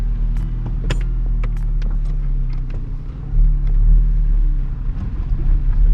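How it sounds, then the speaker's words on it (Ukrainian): Steady low road rumble inside a moving Daewoo Lanos 1.5 SE, a continuous tire drone with a few faint clicks and rattles, no voices. "Там більше буде шум від шин"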